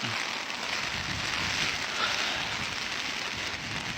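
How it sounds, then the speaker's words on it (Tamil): Heavy, continuous rain pours steadily in Switzerland, a dense, even hiss with no breaks and no voices. "ஃபுல்லாக மழை பெய்யுது தொடர்ந்து பெய்யுது மழை"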